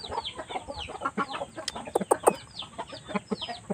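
A Shamo hen clucks and murmurs nearby in quick, uneven bursts, with a few sharper calls mixed in.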